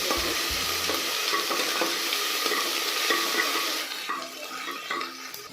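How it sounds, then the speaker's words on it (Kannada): Ginger garlic paste fries in hot oil for mint pulao with a loud, continuous hiss and crackle, broken by a few spoon scrapes. A couple of dull knocks open the sound, and the sizzle eases off toward the end. "ಹಾಕ್ಕೊಂಡು ಹಸಿ ಒಳಗಡೆ ಚೆನ್ನಾಗಿ ಫ್ರೈ ಮಾಡ್ಕೋಬೇಕು."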